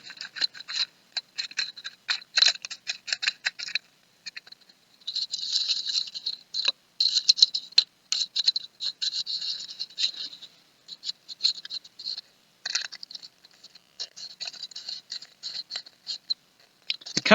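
Chemicals being scraped together inside a cup during a classroom lab on types of reactions, giving close, dry scratching strokes in quick uneven bursts with brief pauses between, fairly quiet and without talking.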